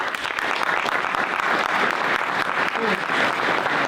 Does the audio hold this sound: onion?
no